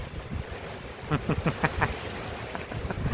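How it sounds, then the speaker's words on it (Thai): Heavy rain falling at a reservoir during a fishing trip, a steady broadband hiss of downpour throughout, with a brief stretch of faint voice-like sound partway through. "ตอนนี้ฝนตกหนักมาก"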